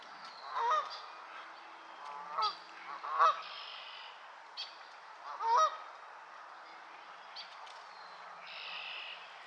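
Geese honking over swamp water on a gray day, several raspy honks scattered through steady outdoor background noise, moderately distant.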